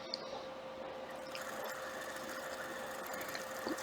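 A home sewing machine stitches a decorative heart embroidery pattern on a quilt-block mousepad, a steady motor hum with a fine continuous whir holding evenly throughout, fairly faint and with no talk.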